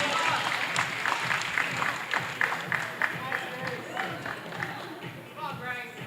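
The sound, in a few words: crowd applauding at a bouldering competition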